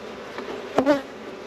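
Honeybees hum during a hive inspection, a brief close buzz rising for a moment over a quiet steady drone before fading back down.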